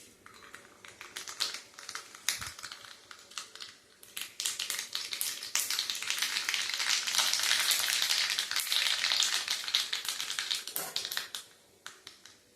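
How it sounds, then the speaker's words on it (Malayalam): Mustard seeds crackle and pop in hot coconut oil, dense rapid snaps that build to a busy peak midway and then thin out toward the end, close and loud with no talking. "വെളിച്ചെണ്ണ ചൂടാകുമ്പോൾ നമുക്ക് കടുകിട്ട് പൊട്ടിക്കാം."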